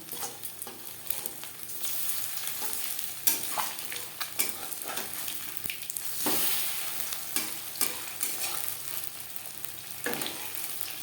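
Lightly coated egg pakoras fry crisply in hot oil, a steady close sizzle with scattered crackles and occasional stirring scrapes throughout, no voices.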